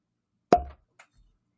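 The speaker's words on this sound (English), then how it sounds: "quiet on the set for the cork pop" A cork pops from a bottle of Booker's bourbon: one loud, sharp plop followed by a short hollow ring, then a couple of faint small clicks in near silence.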